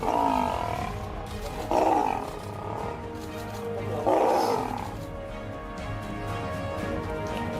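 Two male lions fighting, their deep roars bursting out in repeated loud surges over a continuous rumbling growl, close and intense throughout.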